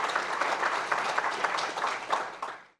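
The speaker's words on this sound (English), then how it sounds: "So give yourselves a round of applause for that." Applause from an audience at a company annual meeting, a short dense burst of many hands clapping at moderate volume that fades out at the end.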